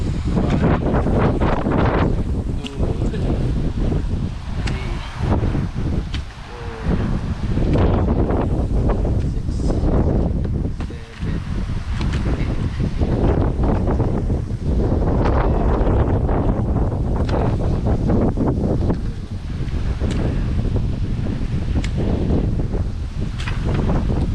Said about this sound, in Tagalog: Pasensya na po kayo at mahangin.